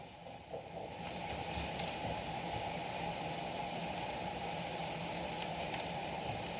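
Onions cooking down in a pan for a quiche, a steady close sizzle and hiss with a low burner rumble beneath, continuous and even throughout with no talking.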